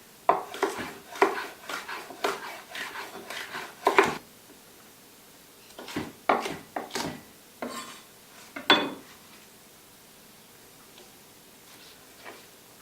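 A knife cuts vegetables into thin strips on a board while fermented vegetables are being prepared, giving a series of close, sharp chopping taps that go quiet for a moment and then come back in another cluster.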